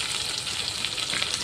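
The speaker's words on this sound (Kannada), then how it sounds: "ಸಾಸಿವೆ ಜೀರಿಗೆ ಆಮೇಲೆ ಬೆಳ್ಳುಳ್ಳಿ ಸೊಪ್ಪು ಬೆಳ್ಳುಳ್ಳಿ ಒಗ್ಗರಣೆ ಹಾಕ್ಕೊಂಡೇನ್ರಿ" Mustard seeds, cumin, curry leaves and garlic are tempered in hot oil for tomato rasam, giving a steady, close, bright sizzle that crackles evenly throughout with no talking.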